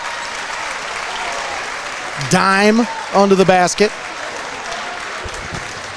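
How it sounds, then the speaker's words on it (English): Crowd applause at a Division I sectional high school boys' basketball game, Columbian vs Clyde, a steady wash of clapping from the stands with a commentator talking briefly over it. "Gets a nice round of applause there, too, from the crowd here."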